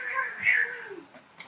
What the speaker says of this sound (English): Oh, because my cats are being crazy.